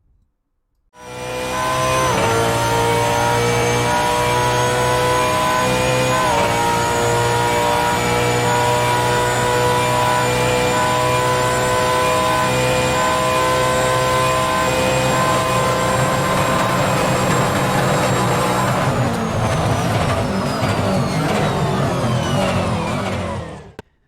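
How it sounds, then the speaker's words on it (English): A simulated Brabham BT62 race car engine in Assetto Corsa roars continuously for about twenty seconds, pitch climbing through several gear shifts before cutting off abruptly near the end. "Now let's listen to the roar of the simulated engine in the official mod."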